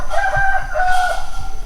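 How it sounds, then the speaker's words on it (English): A rooster crows a long cock-a-doodle-doo at a rural garage and workshop build site in Thailand, loud and near, with a steady background hum beneath it. "cock-a-doodle-doo"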